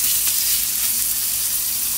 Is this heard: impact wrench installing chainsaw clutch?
no